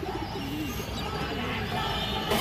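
Sapchila pigeons, a female among them, coo in low rolling phrases close by against a steady background hum.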